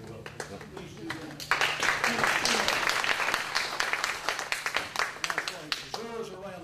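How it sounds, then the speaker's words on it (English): A public forum audience bursts into a round of applause, dense clapping swelling after a moment and holding steady for several seconds, with someone speaking over the start. "Deserves a round of applause."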